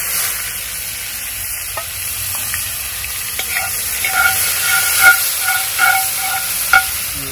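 Garlic sizzles steadily in a hot pan in a homestead kitchen, a constant frying hiss with occasional clinks and scrapes of stirring, no voices.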